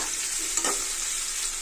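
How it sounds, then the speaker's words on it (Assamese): Paneer pieces fry in a pan for matar paneer with a soft, constant sizzle. A brief stirring scrape comes partway through, and no one speaks. "হেৰিটো বস্তুটো পনীৰটো ফ্ৰাই কৰি ল'ম"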